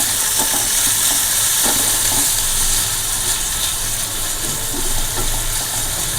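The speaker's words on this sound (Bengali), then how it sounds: "এবারে পেঁয়াজটাকে আমি একটুখানি ভেজে নেব।" Onion frying in a pan for a restaurant-style mixed vegetable dish gives a steady, close sizzle and hiss that runs unbroken from start to finish, with no talking.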